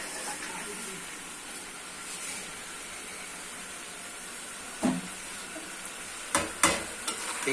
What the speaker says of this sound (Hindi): देखिए कीमे को भून लेते हैं इससे।